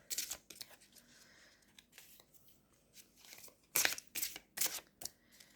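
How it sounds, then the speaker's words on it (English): Close, crisp bursts of large, longer-than-oracle-size cards being shuffled sideways, a few quiet rustles followed by several louder riffling swipes in quick succession. "So I'm shuffling them sideways."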